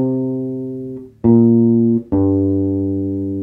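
Guitar plays the closing third part of the riff: three sustained, loud notes, each struck cleanly and left ringing, with short gaps between them and no talking.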